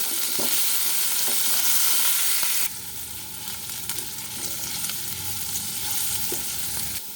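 Steady crackling sizzle of potatoes frying in hot mustard oil with turmeric, loud and close, dropping slightly in intensity midway, with occasional soft stirring knocks.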